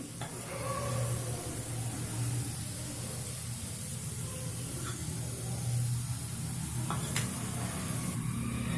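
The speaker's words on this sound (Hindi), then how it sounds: "जीरे को अच्छी तरह से चटकने देंगे" Steady, loud hiss and crackle of cumin seeds frying in hot oil, continuous throughout with occasional sharp pops.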